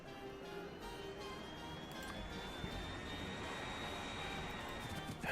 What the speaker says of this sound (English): The plane sound is so annoying.